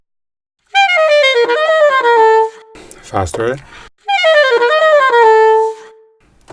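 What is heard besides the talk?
saxophone overtones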